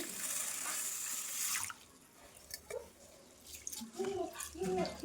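Water pours into a bowl of rice for soaking, a splashing stream for about a second and a half followed by quieter trickles, drips and a few soft knocks of the vessel.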